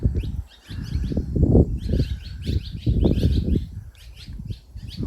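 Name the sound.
birds fluttering and chirping at a cave entrance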